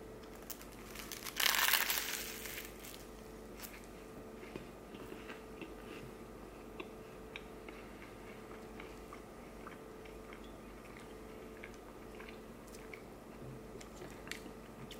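A bite into a crunchy toasted roast beef sandwich with cheese and horseradish sauce gives one loud close crunch near the start, then only faint chewing under quiet room noise.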